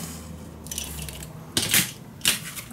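Paper being cut for a small handmade mini album, a few sharp crisp snips and slicing strokes, close by with quiet pauses between them.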